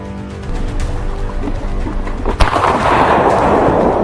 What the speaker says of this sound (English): A single shot rang out, and the largest one dropped instantly.